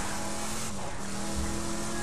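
Vehicle engine in the video game Borderlands 2, a steady, continuous motor roar with some tire-like noise, loud and unbroken throughout with no talking.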